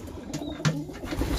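Pigeons bathing in a mixed bath treatment give soft low coos under splashing and rustling, with a thin chirp from another bird, all close by.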